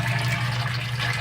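Steady stream of water pouring into the fiberglass filter section of a saltwater aquarium sump, a continuous close rushing flow filling the short moment without pause.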